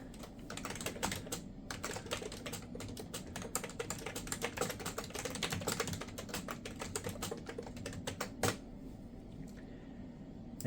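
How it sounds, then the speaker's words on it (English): Steady typing on a computer keyboard in Windows Write, a dense run of quick, close key clicks with occasional heavier strokes, continuing without pause and with no voices. "we will type up a document"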